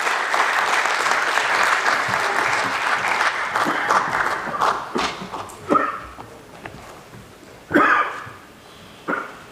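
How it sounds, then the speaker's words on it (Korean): Loud, sustained applause from a church mission forum audience fills the room, then thins into scattered claps and a few final bursts. "크게 박수로 환영해 주시기 바랍니다"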